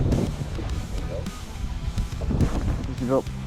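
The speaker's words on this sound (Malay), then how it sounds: "Angin kuat lah." Strong wind blows outdoors on a fishing trip, buffeting the microphone with rumbling gusts while people talk over it.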